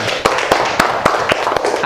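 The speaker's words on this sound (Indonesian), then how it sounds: "tepuk tangan buat Kia" Classroom applause for a student named Kia: a small group claps in a loose, evenly spaced rhythm of sharp, close claps, without talk.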